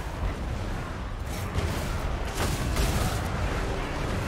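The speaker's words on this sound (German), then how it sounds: "Oh, es ist so schön, wie sie immer drauf schießen." Artillery volleys roar in the Total War: Warhammer II strategy game, a dense, continuous rumble of battlefield fire with a few sharper bursts standing out around the middle, steady and loud throughout with no talking.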